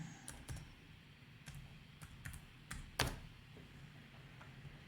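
Quiet clicks of a computer keyboard as someone types a software name into a Linux application search, a short burst of separate keystrokes with one sharper tap near the end.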